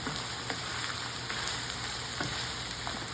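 Ground beef with minced garlic sizzles steadily in a pan, a soft continuous frying hiss with faint crackles and an occasional stir.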